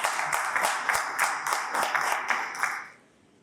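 Audience applause at a panel discussion: a short burst of clapping with distinct rhythmic claps from a modest crowd, fairly close, fading out abruptly after about three seconds.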